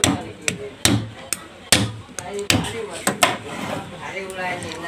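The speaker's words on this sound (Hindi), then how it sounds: "तो इसे ठोक लेते हैं" A stand fan motor's copper coil winding is hammered into place, with about ten sharp, loud metallic blows at an irregular rhythm, close by, with a voice talking faintly between the strikes.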